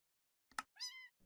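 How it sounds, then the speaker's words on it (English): A short click in the Hypixel Skyblock video game's saved search menu sets off a cartoon cat meow effect: a quick tap, then one clear, close meow, alone against silence. "it makes a cat sound when you click it"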